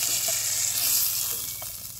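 Pieces of elephant foot yam fry in hot oil with turmeric in a home kitchen, giving a steady, close, bright sizzle with a few soft stirring scrapes and no voices.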